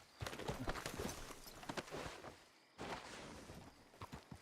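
Horse hooves clip-clopping in the Red Dead video game, a steady rhythmic run of close hoofbeats with a brief pause partway through, then the walking gait resumes.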